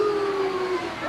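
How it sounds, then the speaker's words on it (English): A dog howling and barking sound effect in a family story recording, with one sustained, wavering howl held at an even pitch before a short rising yelp, close and moderately loud. "Suddenly, without warning, there were dogs barking from everywhere."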